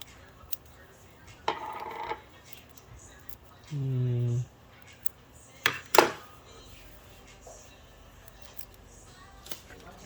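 Heat transfer tape is cut into a couple of pieces for sublimating onto trucker hats, producing a few short, crisp snips with a brief tearing or peeling rasp, close and loud among quiet handling noises.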